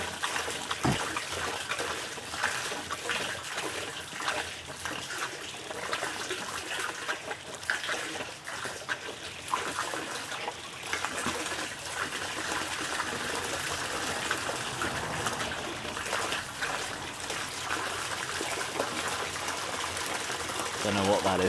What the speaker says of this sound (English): oh, we've got some air bubbles